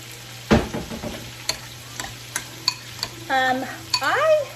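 Utensils scraping and clinking against a pan as a sauce for garlic lemon chicken is stirred, in short irregular strokes, with a brief squeaky rub near the end.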